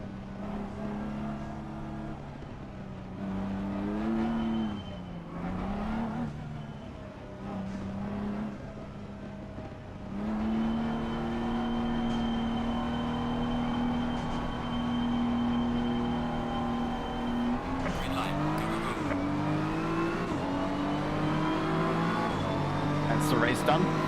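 Race car engines in the Live for Speed racing video game whine and rise through the gears, with revs climbing and dropping and a second car joining late, while a person talks over it.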